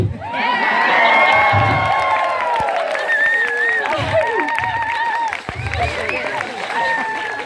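An audience at a comedy show cheers and whoops loudly with scattered applause, shrill voices rising together at first and then trailing into lighter cheering and shouts that continue behind the noise.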